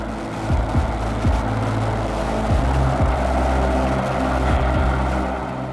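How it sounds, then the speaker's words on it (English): A rescue helicopter arrives overhead at sea near a boat, its engine and rotor roar loud, steady and close throughout, with repeated low thumping pulses. "the helicopter arrives."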